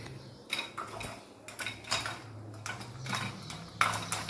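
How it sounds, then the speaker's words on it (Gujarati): Popcorn kernels popping inside a pressure cooker make irregular sharp pops and rattles against the metal, spaced a fraction of a second apart, fairly close and alone. "ધાણી ફૂટવા માંડી."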